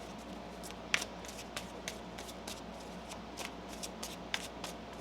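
A deck of cards riffled and shuffled quietly, with soft repeated flicks and a few sharper snaps over a faint steady background hum.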